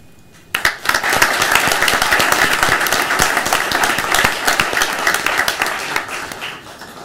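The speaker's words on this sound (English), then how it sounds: "let's give these students one more round of applause" A school board meeting audience gives a sustained round of applause for students being recognized, dense clapping starting abruptly and continuing loudly, then tapering slightly toward the end.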